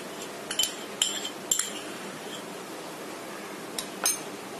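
A spoon clinking against a bowl as mayonnaise is added to make a sauce, a handful of light, bright taps clustered at the start and a couple more near the end over faint room noise.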